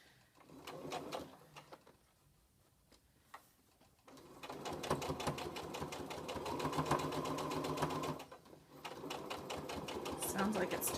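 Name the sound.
sewing machine stitching a flannel washcloth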